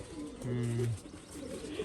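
A domestic racing pigeon coos nearby, a low throaty burst of rolling hums in the middle, followed by softer cooing from the flock kept for competition.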